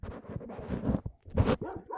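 A small dog gives a quick run of close, choppy barks and yips, with a brief gap before a final sharper burst.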